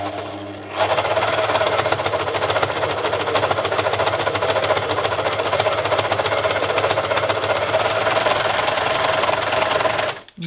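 A Singer 14SH654 overlock machine stitches through folded fabric, starting after a brief quiet moment and running as a loud, fast, steady mechanical whir and rattle for about nine seconds before stopping.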